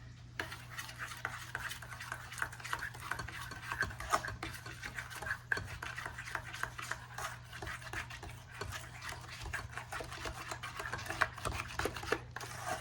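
A spoon stirs sugar into mayonnaise in a bowl for cauliflower salad, making steady, close scraping and clicking against the bowl that continues without a break over a low background hum.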